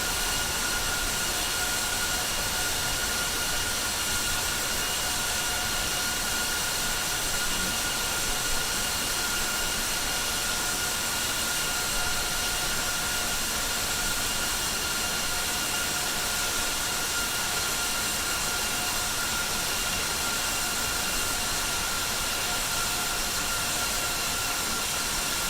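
Steady, loud airliner jet engine drone in Microsoft Flight Simulator 2020 on a Delta Airbus flight, a continuous broadband roar with a constant whine that holds evenly throughout, with no voices.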